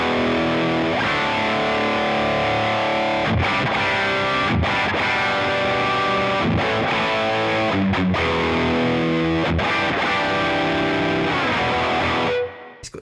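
Heavily distorted high-gain electric guitar through a two-valve preamp, chugging chords and sustained notes played continuously and loud, with short palm-muted stops, ringing out to silence at the end.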